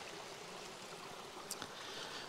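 A river running along the boundary of a rural farm in Serta, central Portugal, flows with a steady, quiet wash of water, faint and continuous with a brief splash or click partway through.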